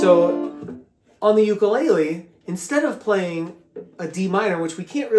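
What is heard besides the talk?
No distinct noise like a dog, phone or traffic.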